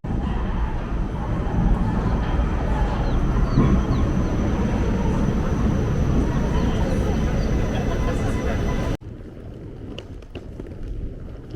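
A train rumbles loudly through Stephansplatz station in Vienna, a dense steady roar with faint high whine that cuts off abruptly into quieter station ambience.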